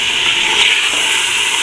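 Minced meat (keema) with tomato, garlic, ginger, chillies, salt, coriander powder and turmeric sizzles loudly and steadily as it fries in a pan, a close, continuous hiss with no talk.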